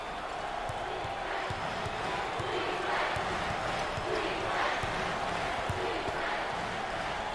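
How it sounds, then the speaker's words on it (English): Crowd noise fills a basketball arena during a 2023 NCAA March Madness first-round game between NC State and Creighton, a steady loud roar of standing, cheering fans with scattered ball bounces and thumps underneath. "there's all kinds of people standing and cheering and going wacky"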